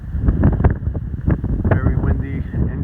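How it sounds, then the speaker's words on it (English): Strong wind buffets the microphone on a mountain ridge along the Appalachian Trail at Chestnut Knob, a loud continuous rumbling roar with gusty surges throughout. "Very windy and chilly."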